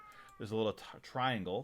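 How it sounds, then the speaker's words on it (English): A cat meows in a room in two drawn-out, wavering cries while a person talks at the same moment, both close and moderately loud. "Apologies for the cat meowing."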